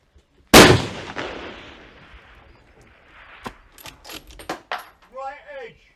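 Precision rifle shots at a shooting match: one loud, sharp report rings out and decays over a couple of seconds, followed by fainter scattered clicks and handling noises and a brief voice near the end.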